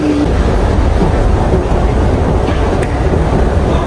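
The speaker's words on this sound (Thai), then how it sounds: "นี่ก็จะเป็นบรรยากาศในรถไฟนะฮะ" Loud, constant rumble and roar of a moving train from inside the carriage, a dense wash of noise with no talking.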